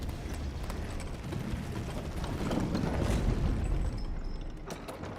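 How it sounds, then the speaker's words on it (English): A horse gallops in the video game Elden Ring, rapid rhythmic hoofbeats thudding close and loud, swelling slightly midway amid a dense rumble, with no talk over it. "I was not supposed to be allowed to ride Torrent there"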